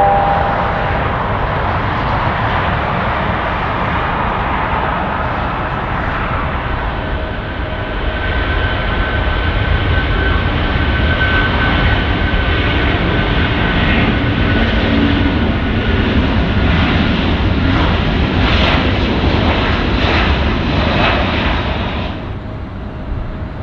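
An Airbus A330 jet takes off at Zurich in the Infinite Flight game, a steady, loud engine roar that holds constant, then eases slightly at the end.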